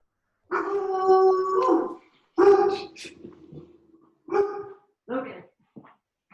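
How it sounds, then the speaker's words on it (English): Pet dog barking and howling indoors during an online meeting, several loud drawn-out yelps and barks in separate bursts with short pauses, close to the microphone. "no barking"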